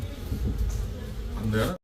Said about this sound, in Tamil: பக்கத்துலேயே பாருங்கள் தேன் குளவி பார்த்தீங்களா.